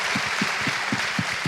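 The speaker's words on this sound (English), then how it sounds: "please give them a round of applause" Audience applause at a talk on faith and mental health, a steady wash of many hands clapping together with soft rhythmic thumps throughout, fairly even in level and without speech.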